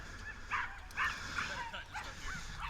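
Dogs on a canal towpath bark and yip several times in quick, uneven bursts, fairly close, over steady background noise.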